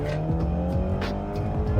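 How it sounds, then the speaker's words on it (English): Stage 2 tuned Audi B9 with a downpipe exhaust pulling hard in second gear, a loud steady engine drone with rising harmonics and brief higher bursts, recorded from inside the car. "Even just the noises you get with having this downpipe on there"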